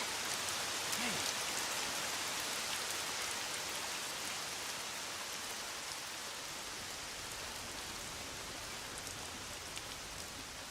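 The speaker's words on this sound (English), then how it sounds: "Oh, great. It's raining." Steady rain falls in the video game Lost Odyssey, a dense, even hiss of raindrops that continues unbroken and fairly quiet throughout, with no voices.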